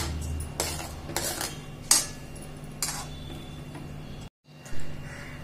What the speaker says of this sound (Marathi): साखर घातल्यावर पण हलवून घ्यायचं, एकजीव करायचे साखर सगळी।